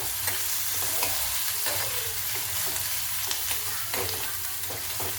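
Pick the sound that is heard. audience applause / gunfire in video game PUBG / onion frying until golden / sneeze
onion frying until golden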